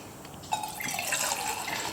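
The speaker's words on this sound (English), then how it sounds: "we're going to have a pour demonstration" Water pours in a steady, close splashing stream from a nearly full 0.7-litre Eagle Products campfire kettle, continuing evenly after a brief gurgling start.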